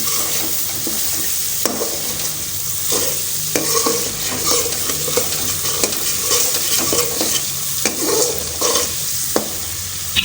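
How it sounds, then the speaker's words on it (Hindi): Masala fries in a pot for white chana pulao, with a continuous close sizzle and repeated spoon scrapes and stirs throughout. "इसको मज़ीद भूनेंगे ताकि मसाले में अच्छा खुशबू आ जाए, जायका भी आ जाए।"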